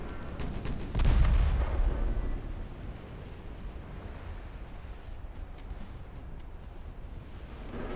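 A 3-inch naval gun fires in the naval warfare game Ultimate Admiral Dreadnoughts, one deep, loud boom near the start that rolls off into a long wash of ocean surf and wind.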